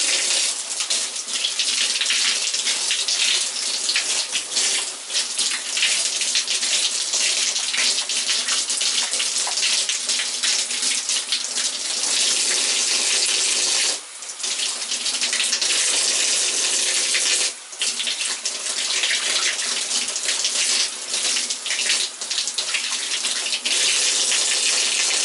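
Hairbrushes being rinsed clean under a running tap, a steady close gush of water that continues for the whole stretch with small shifts as the brushes move through the stream.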